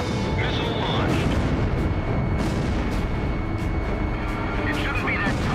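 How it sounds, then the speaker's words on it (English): Missile launch and explosion in the air-combat game Ace Combat Zero, a loud rumbling burst and roar over constant jet engine noise, with sharp cracks and electronic warning tones scattered through the scene. "Missile launched."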